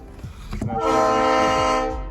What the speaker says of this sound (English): Fucking train. That thing is loud.